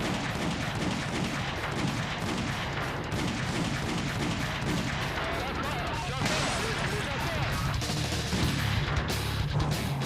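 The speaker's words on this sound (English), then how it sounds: "In a barrage of gunshots" Rapid bursts of gunfire crack continuously, loud and close, with shots overlapping into a sustained barrage and a few heavier booms, during a police shootout with an armed suspect.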